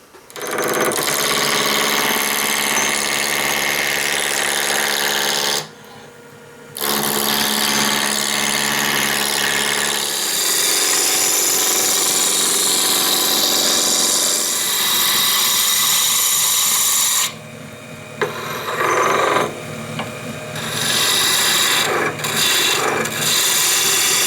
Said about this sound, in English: So let's go ahead and chuck this up now on the lathe.